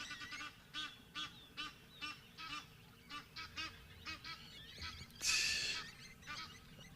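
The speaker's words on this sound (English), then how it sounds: "Oh, these Egyptian geese are so noisy." Egyptian geese honk repeatedly at a moderate distance on an early-morning safari, a steady series of nasal calls with one louder, harsher burst near the end.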